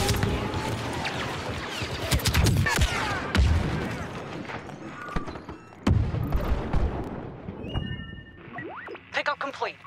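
Grenade explosion in a war video game set in Germany: a sharp booming blast amid ongoing gunfire, combat noise and voices, followed by further bangs and electronic game sounds.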